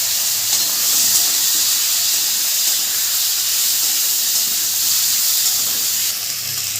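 Potatoes, onion and cubed tomato fry in a pan, giving a loud, continuous steamy hiss that holds steady and then eases slightly near the end.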